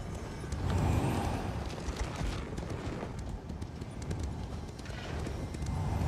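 Hooves of many horses galloping in an Elder Scrolls Online battle, a dense continuous rumble of clip-clop with occasional whinnies and scattered impacts, no talking.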